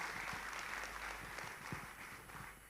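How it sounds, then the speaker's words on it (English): Audience applause at the opening of a regional investment summit, a faint, distant, steady patter of clapping across a large hall, with a low hum underneath and no talking. "Please give a big round of applause."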